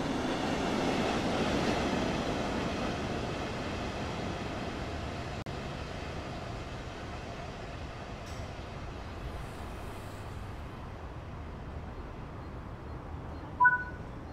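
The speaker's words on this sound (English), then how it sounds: "We will need to wait for the brake system to charge." A locomotive's brake system charges in Train Sim World 3 on the Rhein-Ruhr Osten route: a steady, low hum and airy hiss that continues throughout, with a short tonal beep near the end.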